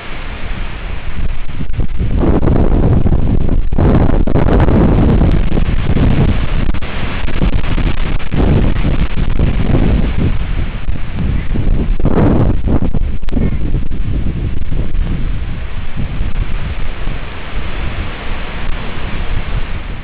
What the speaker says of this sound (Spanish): El portal Webcams documentó la entrada de la tormenta Manuel a las costas del Pacífico que se escuchaba de esta manera.